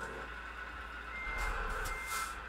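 A Scania truck in Euro Truck Simulator 2 rumbles low, the engine swelling partway through, while a steady electronic beeping tone runs throughout.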